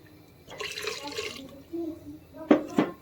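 Short pours of water splash into a mixer jar in brief bursts, with a couple of louder sloshes near the end and faint background voices.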